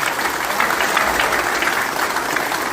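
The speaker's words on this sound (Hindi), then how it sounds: "तालियां बजानी है तो दोनों हाथ उठा के बजाएंगे।" Dense, steady applause from an audience at a Hindi Academy Delhi poetry gathering (kavi sammelan) held in an office for the New Year, a loud continuous wash of many hands with no voices.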